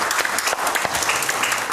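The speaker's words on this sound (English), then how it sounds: "Give the Lord a hand clap." Congregation clapping hands together in a church, a dense steady round of applause lasting the whole moment with no voices over it.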